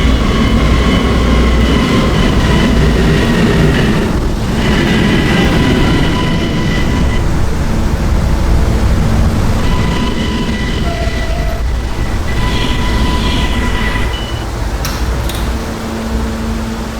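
R153 cars on a New York subway E train at Herald Square give a loud, steady rumble of a car running on rails, with a faint onboard announcement chime and some brief electronic tones.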